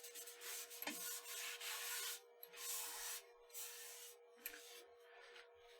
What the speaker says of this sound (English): Just going to go into that groove with a fingernail and just rub that wax in.